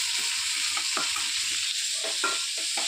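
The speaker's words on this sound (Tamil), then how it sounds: "வதக்க ஆரம்பிச்சுட்டாங்கோ" Sesame seeds being sautéed in a pan, a constant dense sizzling hiss with rhythmic stirring scrapes and light knocks on the pan.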